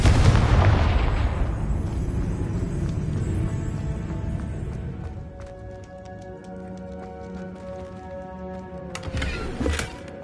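A Confringo spell explosion in Hogwarts Legacy bursts with a loud, broad boom at the start, then rumbles and fades over several seconds, followed by faint ringing tones and a sharper pop near the end.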